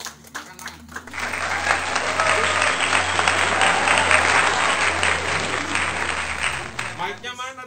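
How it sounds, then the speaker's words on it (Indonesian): Sustained audience applause for artists at a live art exhibition, a dense wash of many hands clapping for several seconds after a short lead-in, with a low steady hum underneath and talk returning as it fades. "tepuk tangan untuk para seniman"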